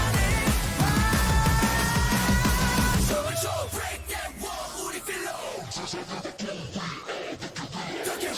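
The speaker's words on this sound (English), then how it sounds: "The screaming in the background is so iconic." Shouting and yelling voices sound behind the music in a music video, dense and loud at first, then thinning into scattered cries over a sparser beat.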